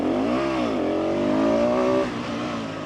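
A single-cylinder supermoto motorcycle, a Ducati 698 Mono or KTM 690 SMC R, accelerates hard on a track with a loud, rising engine note, dips briefly and climbs again, then drops off sharply near the end.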